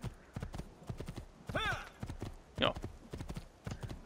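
Rhythmic horse hoofbeats clip-clop steadily from a mount in the video game Assassin's Creed 2, running under a man's German speech, with a brief whinny-like burst in the middle.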